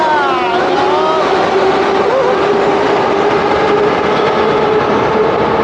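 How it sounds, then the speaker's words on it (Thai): A loud, steady metro train roar fills a Moscow metro station, with rumbling wheels and a sustained mechanical hum, close and continuous throughout. "เสียงรถไฟดังมาก"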